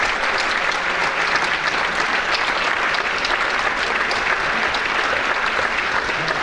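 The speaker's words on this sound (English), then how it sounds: "Have a round of applause for all three of them as they come on stage." Dense, steady audience applause fills the whole stretch at the grand opening of a university hall, loud and continuous with no break or talk over it.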